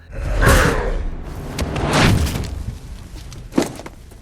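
A film sound effect of Hulk kicking Blonsky into a tree: two loud, heavy whooshing thumps followed by a sharper crack of impact, all booming and close.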